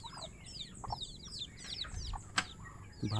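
Hungry chicks peep in a rapid stream of high, overlapping chirps at close range, with occasional low clucking from an adult hen or rooster nearby.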